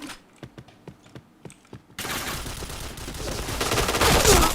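Video game gunfire: a rapid series of sharp, evenly spaced shots, then a dense, noisy burst of continuous firing and effects that builds in loudness.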